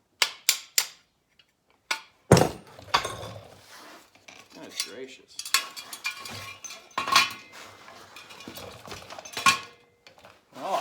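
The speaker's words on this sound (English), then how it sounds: "I'm gonna hammer this bitch out" A hammer knocks at a stuck part on an old go-kart, producing sharp, irregular metallic clanks and clinks at close range, separated by short pauses, with a brief exclamation.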